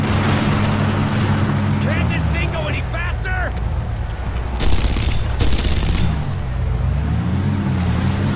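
Gunfire crackles in the Red Faction shooter amid a droning vehicle engine, with a few sharp bursts of shots over continuous rumble while players talk throughout.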